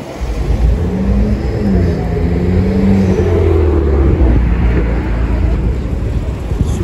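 A Ford Mustang engine rumbles close by at a car meet, a low steady growl with a brief rising rev in the middle, held at a constant loud level throughout.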